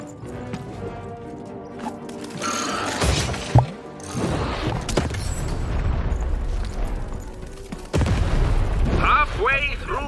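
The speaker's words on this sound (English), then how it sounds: "button to fire the cannon." Cannon fire in the video game Lost in Random, a heavy boom and crash amid game sound effects and music, with a voice talking over parts of it.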